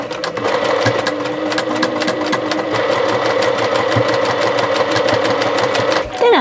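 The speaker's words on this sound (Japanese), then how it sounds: "端っこミシンでね。" A sewing machine stitches the curved hem edge of a blouse being made from a yukata, running loud, steady and close in a fast continuous rattle, stopping right at the end.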